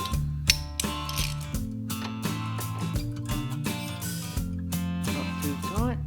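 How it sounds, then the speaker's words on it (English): A mounting bolt is tightened on a Victa Imperial cylinder lawn mower, giving a run of close metallic ratcheting clicks and clinks over a steady low hum. "Finally, tightening up the mounting bolt."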